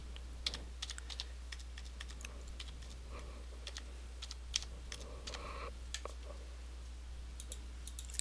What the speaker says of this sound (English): just simply type it in